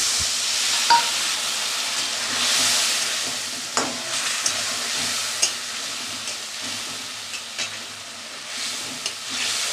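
Spice paste of ginger, garlic, turmeric and a splash of water fries and sizzles in a pan, a steady close hiss broken by occasional scraping stirs and knocks, with no one talking.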